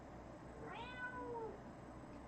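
A cat gives a single clear meow, rising then falling over about a second, fairly faint against a quiet background hiss, with no talk.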